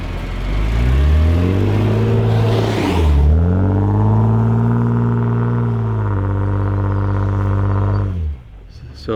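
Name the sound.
lead vehicle driving through deep snow drifts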